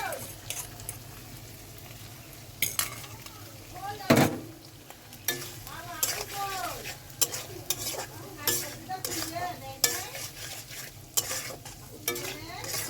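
Egg frying in a pan and being stirred while noodles are cooked, with steady sizzling, intermittent scraping stirs and clinks of utensils, and bursts of voices talking over the cooking.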